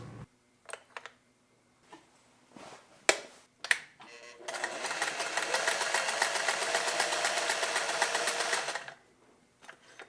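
A Singer 403A sewing machine runs a zigzag stitch in a steady whirring burst of about four seconds. A few clicks and knocks from handling the machine come before it, and it stops abruptly.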